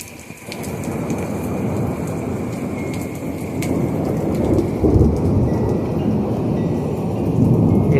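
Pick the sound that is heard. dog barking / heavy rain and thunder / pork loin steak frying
heavy rain and thunder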